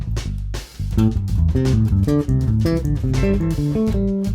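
Electric guitar plays fast, steady pentatonic runs in three-note groups as sixteenth notes, with shifting accents giving a driving, slightly off-kilter rhythmic feel.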